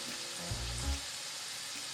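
Minced garlic and tomato paste frying with softened onions in a pan, a steady close sizzle with a brief stir or scrape near the middle, no voices.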